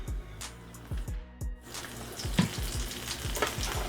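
Sausage sizzles steadily as it goes into a pan with a little avocado oil, with a run of sharp spattering pops and crackles over a constant frying hiss, close and fairly loud, no talking.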